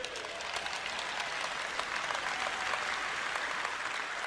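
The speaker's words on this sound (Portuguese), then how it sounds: "Eu não vou parar até você aplaudir," Audience applause at a Joyce Meyer Ministries sermon in Portuguese, a steady, dense wash of clapping that holds evenly for several seconds with no speech over it.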